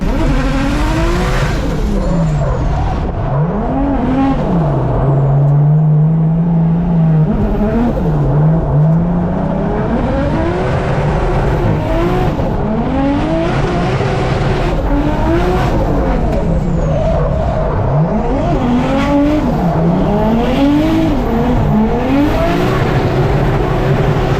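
A Nissan Skyline drifting, its engine revving and falling in sweeping wails while tires squeal and skid continuously, loud and close for the full stretch with no talking.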